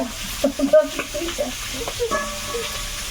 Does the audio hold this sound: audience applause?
no